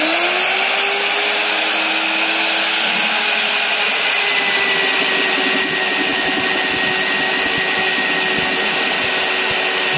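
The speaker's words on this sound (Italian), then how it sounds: "quando si inizia il foro bisognerà andare adagio di modo da creare un inizio di scavo, bello preciso, che fa da sede per poi continuare a forare" A VEVOR magnetic drill bores through steel with a steady, loud motor whine and grinding cutter noise that runs unbroken for the whole stretch, with no talking.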